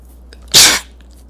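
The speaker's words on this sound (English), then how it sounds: "I have to sneeze." A single sharp sneeze bursts out during a Rogue Legacy gameplay session, loud and close, lasting under half a second, with quiet room tone before and after.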